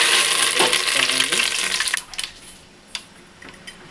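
Thinly sliced onions frying with chicken in a pan for a chicken curry, a loud, steady sizzle with stirring scrapes that eases to a quieter crackle with a few sharp pops.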